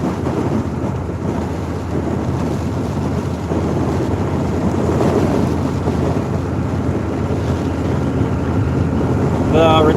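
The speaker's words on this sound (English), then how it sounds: "Wind is just ripping it" Strong outdoor wind buffets the microphone beside a full retention pond, a loud continuous low rumble and roar with gusty swells running through the whole stretch.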